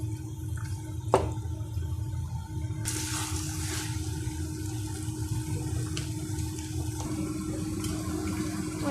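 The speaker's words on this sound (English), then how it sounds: "When the broccoli is fully cooked, drain it." Water drains steadily from cooked broccoli into a sink, a continuous rushing pour with scattered splashes and drips, close and fairly loud, with no talking.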